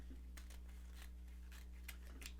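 Scissors cut through burlap ribbon while a bow is made for a patriotic burlap wreath: a handful of quiet, crisp snips spaced irregularly over a faint steady background hum, with no talking.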